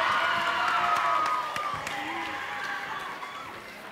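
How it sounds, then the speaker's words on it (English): A middle school assembly audience applauding and cheering, a loud continuous wash of clapping with whoops and crowd noise that slowly eases off. "Give yourselves a round of applause and have an amazing weekend"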